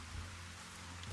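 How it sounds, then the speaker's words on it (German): Steady, dense rain pours down without pause in the fishing game Russian Fishing 4, a soft continuous hiss with a low rumble beneath and no voices. "das ist aber wirklich richtiges Regenwetter"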